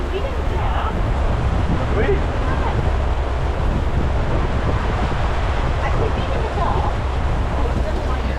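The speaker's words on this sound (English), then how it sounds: "I've never been on a safari in the pouring rain before." Heavy rain pours down steadily on an open-air safari ride at Disney's Animal Kingdom, a dense and constant hiss with no pauses and no voices.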